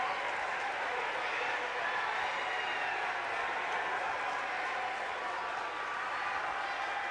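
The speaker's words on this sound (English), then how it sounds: "this crowd's erupting" Basketball crowd at a Mount Union vs. Marietta men's game, cheering and applauding in a loud, steady roar that fills the arena throughout, with no break.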